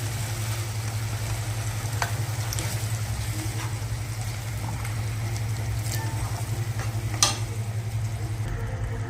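Whole mung beans go into a hot, sizzling pan for usal, with a steady close frying hiss over a low hum and a few sharp spoon clinks.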